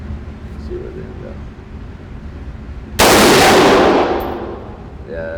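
A PTR Industries G3 clone rifle fires a single loud, sharp shot at an outdoor range, its blast ringing out and fading over about a second, with faint voices beforehand.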